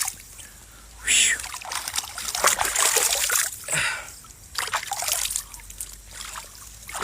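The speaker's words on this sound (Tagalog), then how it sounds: "nandito tayo sa gilid ng salog guys. Gilid ng ilog." Water trickles and splashes gently at the edge of a river, with a few louder splashy bursts between quieter stretches of flowing water.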